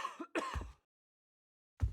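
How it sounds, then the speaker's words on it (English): A person clears their throat with a short rasping cough-like burst, then a pause of near silence before another brief throat sound, close and fairly loud. "Except for us coughing and breathing."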